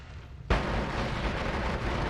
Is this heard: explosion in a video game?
yes